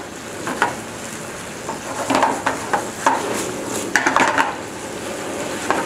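Chilli basil noodles with tofu being tossed and mixed in a hot stir-fry pan, a continuous sizzle broken by irregular scraping and clattering stirs of utensil against the pan, close and busy, with no talking.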